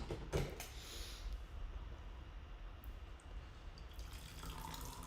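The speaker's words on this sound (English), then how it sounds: "Give my little sharing pot a rinse with straight up hot water." Hot water splashes and trickles while a small tea sharing pot is rinsed, a faint close pour with a brief sharper splash near the start.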